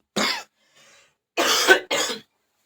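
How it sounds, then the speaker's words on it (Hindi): A person coughs three times, short raspy bursts close to the microphone, separated by brief quiet gaps with a faint hum between the first and second. "थोड़ा खांसी आ रहा है"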